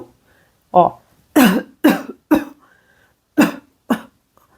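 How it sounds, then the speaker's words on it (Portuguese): A person fakes a cough several times, sharp throaty bursts close to the mic, first one alone, then a quick triple, then a pair. "eu faço esse movimento de tosse"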